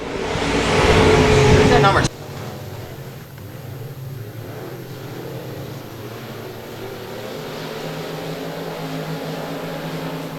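Race cars at Boothill Speedway, including an under-12 car, drone steadily through the laps, with a loud close burst that cuts off sharply before the engines carry on more faintly under a commentator's voice.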